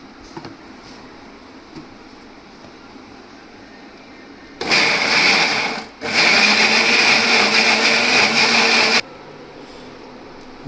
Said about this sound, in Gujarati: હવે આને આપણે છે ને મિક્સરમાં ગ્રાઇન્ડિંગ કરી લઈએ.